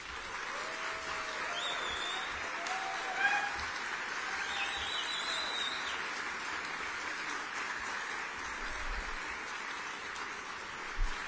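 A crowd at an honoring ceremony for Congressman Eliot Engel keeps up a continuous, fairly soft wash of clapping from a distance, with faint voices and a few brief louder bursts mixed in.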